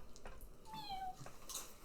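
A single drawn-out cat meow, faint and slightly rising, from a giant calico kitten, heard alone over low background noise.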